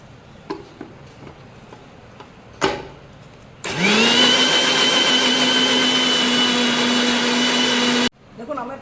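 A blender whirs loudly and steadily for about four seconds, blending mango lassi with sugar and water. Short clatters and handling noises come before it, and the motor stops abruptly at the end.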